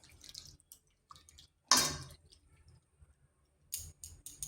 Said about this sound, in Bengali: দিয়ে দিচ্ছি জল। জল খুব বেশি দেবনি।